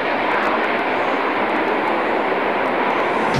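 A MiG-29 fighter jet's engines roar loud and steady, a continuous broadband rush with no pauses.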